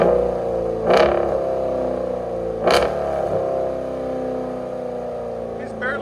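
A 2020 Jeep Grand Cherokee SRT with a 6.4L HEMI V8 and Borla Atak cat-back exhaust rumbles at a deep, steady idle close by, swelling in two short throttle blips before settling back into the low drone.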